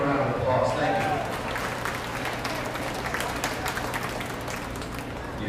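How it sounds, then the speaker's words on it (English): A crowd applauds at a beef cattle show after a champion Charolais steer is announced, a dense, steady clapping that starts loud and gradually tapers while remaining continuous. "Give him a round of applause."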